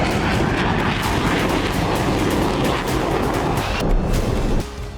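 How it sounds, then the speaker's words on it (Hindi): A single-engine American F-16 fighter jet roars in a loud, steady, broadband rush that holds for several seconds before dropping off sharply near the end. "यूक्रेन के आसमान पर गरजेंगे अमेरिका के सिंगल जेट इंजन वाले F-16 फाइटर जेट।"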